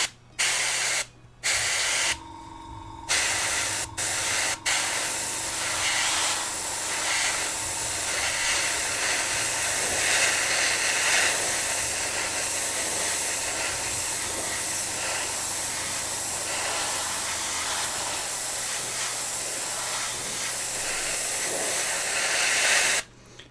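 An airbrush sprays paint onto parts of a Tamiya Volvo FH12 1/14 scale RC truck kit, a loud, close, steady hiss with a few short bursts at the start, then one long continuous spray.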